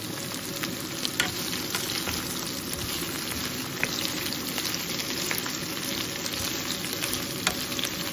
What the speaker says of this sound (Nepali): मजाले चलाउने